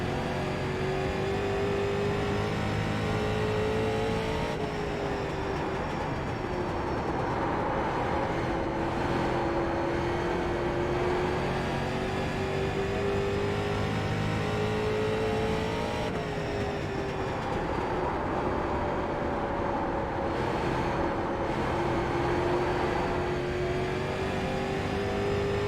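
A heavy race car in iRacing drones steadily through laps, its engine note rising and falling with gear changes and braking, loud and continuous with no talk.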